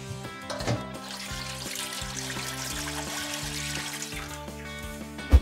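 Water is poured into the water pan of a smoker being set up for Franklin-style Texas turkey breast, a steady close trickle and pour running for several seconds with no talk over it.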